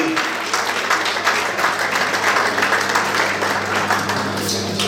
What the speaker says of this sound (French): On acclame pour ces deux personnes qui ont accompli quelque chose qui n'est pas facile